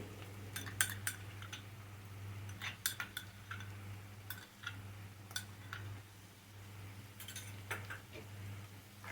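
A spoon clinks and scrapes against a pan while chilli paneer sauce with soy sauce and tomato sauce is mixed, giving irregular metallic taps and clinks over a steady low hum, fairly close and moderately quiet.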